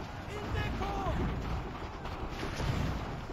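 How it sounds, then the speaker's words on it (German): Gunfire in Assassin's Creed III sounds as a series of dull booming shots under a continuous rumble of battle noise, with a faint voice now and then. "Schau, ein Schuss."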